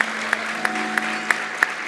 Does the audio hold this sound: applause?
yes